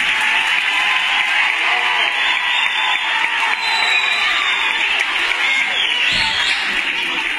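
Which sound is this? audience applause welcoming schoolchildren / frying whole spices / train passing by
audience applause welcoming schoolchildren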